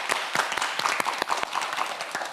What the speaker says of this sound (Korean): 박동혁 학생에게 큰 힘이 되는 박수 부탁드립니다.